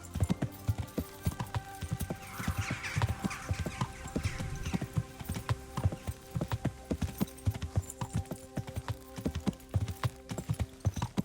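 Horse hooves clopping steadily at a walking pace in the video game Kingdom Come: Deliverance, close and rhythmic, with a faint whinny early on over a low ambient drone.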